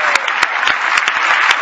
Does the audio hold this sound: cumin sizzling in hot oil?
no